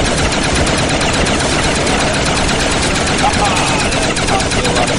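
Dense, continuous automatic gunfire from a Black Ops Zombies match on the Ascension map, loud and unbroken throughout, with rapid overlapping shots forming a constant roar.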